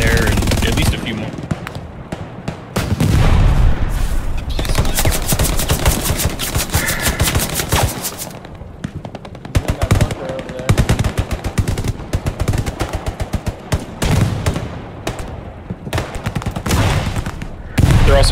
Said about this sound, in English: I started shooting my MG just laying some suppressive fire down